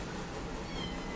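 A cat meows briefly at a pet adoption shelter, a single close, moderately loud cry over a steady background hum.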